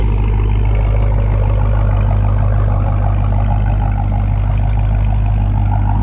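A Dodge Hellcat Redeye with a blower runs through a tire burnout, a loud, steady, deep engine roar with a heavy low rumble held for six seconds without voices.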